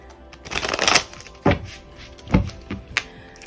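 Tarot cards being shuffled close by, a dense riffling burst followed by a few sharp snaps and taps as the deck is squared, quiet pauses between.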